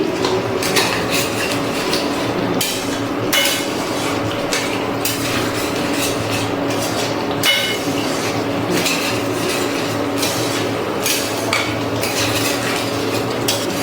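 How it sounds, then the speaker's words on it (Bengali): Potol korma with ghee being stirred and mixed in a pan, with a steady run of spoon scrapes and metallic clinks against the pan over a low background hum, no talking. "এবারে খুব ভালো করে সব কিছু মিশিয়ে একটু নাড়াচাড়া করে নিচ্ছি।"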